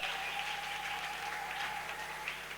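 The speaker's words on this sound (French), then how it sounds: "Est-ce qu'on peut acclamer un peu pour Seigneur?" A church congregation applauding the Lord, a steady wash of clapping from a crowd, fairly faint and even throughout.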